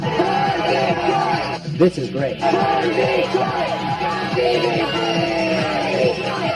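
Excited crowd packed into a jewelry pawn store for a cash giveaway, yelling, whooping and cheering loudly and continuously, with voices shouting over one another and a brief lull midway.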